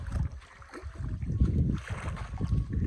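Gusty wind buffets a microphone, producing low, uneven rumbling bursts that rise and fall, with faint watery motion in the background and no speech.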